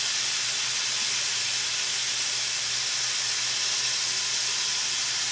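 Chicken hits hot cooking oil in a pan for pansit gisado, giving a loud, steady hiss and sizzle that holds evenly throughout with no talking.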